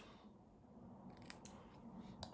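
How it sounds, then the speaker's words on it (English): Scissors snip the ends off a paper sentiment strip during card making, giving a few quiet, crisp cuts against a soft room background. "So I'm just going to cut the ends off"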